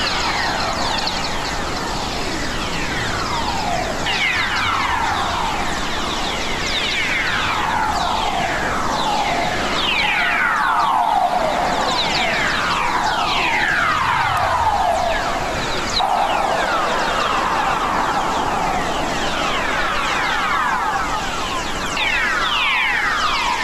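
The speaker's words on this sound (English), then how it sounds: "This is another type of plasma wave that comes from the Earth's atmosphere and the electromagnetic field that surrounds the Earth." Plasma wave radio emission from Earth's magnetic field, converted to sound: a dense, continuous chorus of rising and falling chirps and whistles over a steady hiss, overlapping like a flock of electronic birds.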